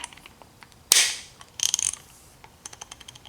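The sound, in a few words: Snap-on SL710 ratchet clicking during test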